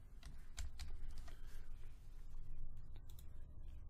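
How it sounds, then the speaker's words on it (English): Typing on a computer keyboard with quick, light key clicks in a short flurry, faint and close, over a soft background hum. "I'm just going to type out sample."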